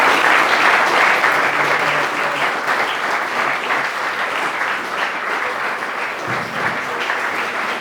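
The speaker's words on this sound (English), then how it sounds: "round of applause, please, for Ronnie." A seated audience at an alumni gathering applauds for Ronnie, a dense, steady wash of many hands clapping that holds at an even loudness throughout with no speech.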